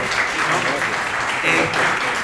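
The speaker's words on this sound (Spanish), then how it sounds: "Primero, un aplauso a todos que no estamos hasta este horario" An audience applauds at the close of a CONAGEO talk on tsunamis and disasters, a dense, even wash of clapping with voices mixed in.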